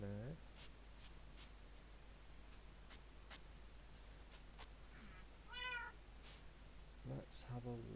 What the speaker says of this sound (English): I can hear my cats.